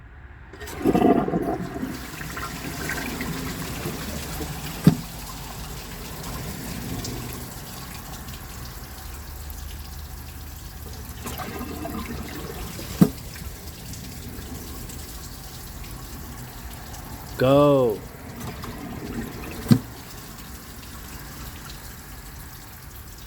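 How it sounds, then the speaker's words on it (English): A 2017 Glacier Bay high-efficiency toilet flushes while its handle is held, with a dish towel stuck in the bowl, followed by a long steady run of water as the tank refills, with a few sharp clicks and a brief spoken word. "let's give this another flush and see if it can take that dish towel the rest of the way"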